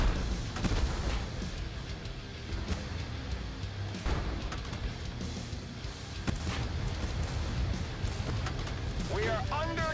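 Tank cannon fire in the video game Tank Force: several dull booms and blasts over a dense, rumbling battle soundscape, with voices talking throughout.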